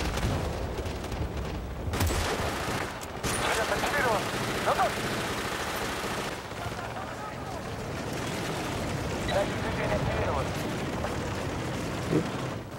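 Gunfire and explosions in the Bad Company 2 demo as a recon soldier, with dense booming shots and rumbling blasts under a continuous battle din, several sharp close cracks standing out.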